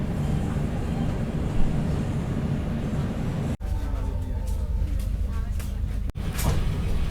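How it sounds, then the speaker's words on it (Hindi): The Tejas Express pulls out of Kanpur Central station with a continuous rumble of rolling carriages, broken by two sharp knocks, and faint voices sit in the background. "तो अपनी तेजस एक्सप्रेस निकल चुकी है कानपुर सेंट्रल रेलवे स्टेशन से"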